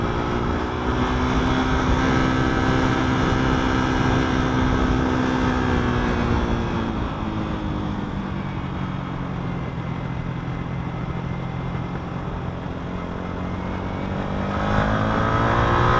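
A 150cc rental motorcycle in Chiang Mai, Thailand, is ridden hard in second gear up to about 6,000 RPM. The loud, continuous engine drone rises and falls in pitch through the ride, with no talk over it.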